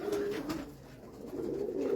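Domestic Mukami pigeons coo softly in a low, rolling murmur, a couple of gentle calls rising and fading close by, faint overall.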